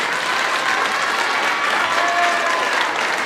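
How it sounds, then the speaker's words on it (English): At an evening choir concert the audience gives the live stream and lighting crew a round of applause, a loud, steady, close burst of many hands clapping that never lets up. "let's give a round of applause to them"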